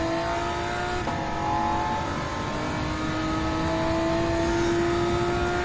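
A 2016 Porsche Cayman GT4 race car in Gran Turismo 7 drones steadily at high revs, its engine note holding a sustained pitch that shifts slightly upward partway through, loud and continuous with no talk.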